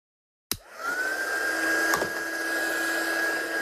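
A heat tool blasts air across an inked card being dried for heat embossing, switching on abruptly and holding a steady, loud whirring whine with a constant high pitch, close by and alone.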